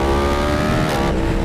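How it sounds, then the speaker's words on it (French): A 2024 Yamaha R1 four-cylinder motorcycle engine accelerates hard, its loud, dense howl climbing in pitch through the revs, close and continuous with no talk. "regardez à 6000 elle part déjà quoi"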